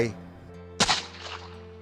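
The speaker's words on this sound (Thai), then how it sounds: "เสียงปืนก็ดังก้องมาแต่ไกล" A single sharp gunshot cracks out in the distance, echoing and fading afterward over a quiet tonal background.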